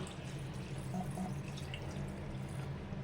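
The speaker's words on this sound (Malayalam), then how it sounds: "ഇനി നമുക്ക് അതിലേക്ക് വേവാൻ ആവശ്യമായ വെള്ളം ഒഴിച്ചു കൊടുക്കാം" Water splashes and trickles steadily into a cooking pot of dal and spinach curry, a soft continuous pour at close range with faint drips.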